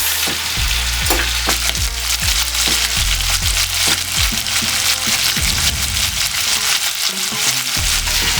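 Beef taco meat sizzles hard in a pan, a loud, dense crackle and spatter that runs without a break, with frequent sharp pops and ticks scattered through it. No voices.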